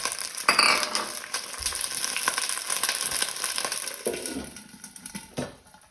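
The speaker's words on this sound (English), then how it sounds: "You'll hear some sizzle" Bok choy hits a hot curry pan over medium-low heat for a vegan Malaysian laksa, giving a steady close sizzle with stirring clatter and a few utensil knocks throughout.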